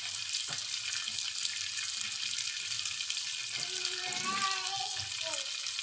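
Water pours into a cooking pan of sayote and tofu with a steady, close splashing hiss, while a voice briefly speaks in the background.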